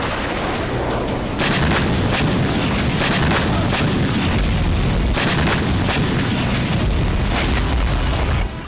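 Artillery and gunfire in the Russia-Ukraine war rumble loudly and constantly, with repeated heavy booms and sharp bursts stacked over a dense roar that fills the whole stretch.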